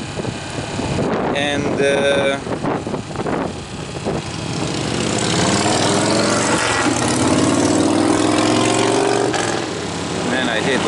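A Harley-Davidson motorcycle engine roars past outdoors, a loud rumbling drone that swells and fades, with a brief word spoken over it.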